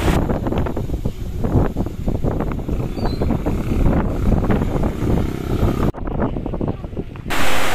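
Strong wind batters the microphone at the harbor in Larantuka during a storm with rain. There are continuous loud gusty rumbles and buffeting, with one short dropout near the end.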